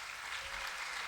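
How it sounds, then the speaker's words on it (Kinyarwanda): A church congregation applauds at a PEFA service, a soft, steady wash of many hands clapping at a distance, faint and continuous with no clear voices. "Reka dukomere ijambo ry'Imana amashyi menshi."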